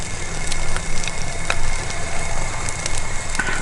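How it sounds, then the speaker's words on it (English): French toast frying in a pan in a hot tent while camping, a steady close crackling sizzle with small pops throughout. "Listen to that sizzle. This good sizzle."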